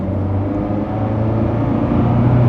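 Zenvo supercar engine warming up, a steady low mechanical rumble close by that swells slightly louder toward the end, with no talking over it.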